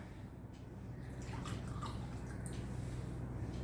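Tap water pours steadily into a glass holding sesame oil, a quiet continuous trickle with light splashing and gurgling over a low background hum.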